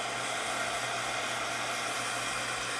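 A low-setting heat tool blows hot air over decoupage work, a steady, even broadband whoosh with a faint low hum, continuous and fairly quiet throughout with no talking.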